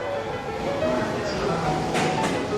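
A JR 215-series train arrives, rumbling and squealing along the rails, with steady rolling noise and screeching tones, and people talk faintly in the background during the morning commute.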